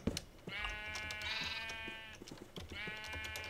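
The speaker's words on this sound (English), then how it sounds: "I found sheep." Minecraft sheep bleating in a wool-farm game session, two drawn-out wavering bleats separated by a short gap, fairly loud and close, with soft background game noise and no talk.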